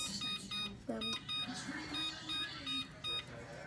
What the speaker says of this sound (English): Now we are going to set the timer for 30 minutes.